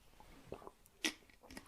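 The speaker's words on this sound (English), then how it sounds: "Hear me swallowing my water." A person swallows a drink of water close to a microphone, with a few soft, wet gulping and clicking mouth sounds spaced through a quiet moment.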